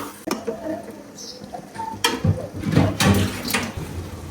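Chicken tehari ingredients being mixed in a pot with a spoon, scraping and wet stirring sounds coming in uneven bursts, fairly close and clear.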